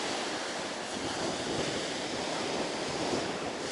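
Winter surf on the Black Sea shore rolls and hisses in a steady, dense wash, with wind buffeting the microphone and no voices.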